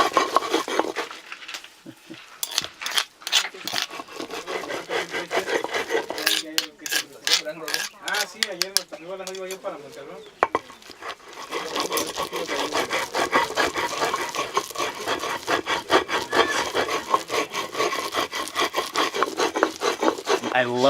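Chilies for Oaxacan mole negro are ground between stones by hand, a continuous rough scraping and rubbing of rock on rock with wet squishing, close and steady for the whole stretch with brief pauses.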